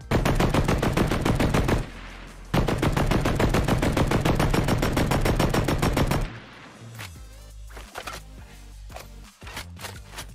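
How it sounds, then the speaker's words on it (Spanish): An automatic weapon in Fortnite update 20.30 fires with its reworked gunfire sound: two long, rapid, loud bursts split by a brief pause, then scattered quieter shots and game effects trailing off. "se ha modificado el archivo de audio, y ahora, chicos, este arma tiene un sonido bestial"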